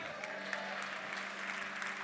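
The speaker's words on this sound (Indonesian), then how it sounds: "kasih tepuk tangan buat Tuhan" Crowd applause at an Indonesian youth conference session, steady dense clapping over a hum of room noise and faint voices, moderately distant.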